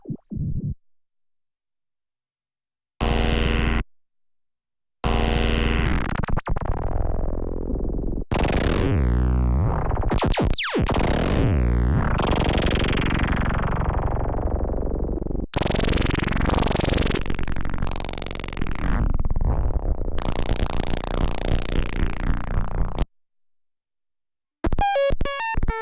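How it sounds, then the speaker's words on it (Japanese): Random noise waveform from a Moog Matriarch synthesizer oscillator routed to pitch, playing as loud sustained electronic tones with shifting pitches in several separate bursts and no talking. "今ランダムノイズ波ですね。"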